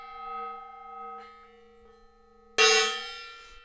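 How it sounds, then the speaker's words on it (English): A gong hums with a sustained, ringing tone that fades slowly, then a single loud strike produces a bright, shimmering crash that lingers and decays. "time to hit this gong"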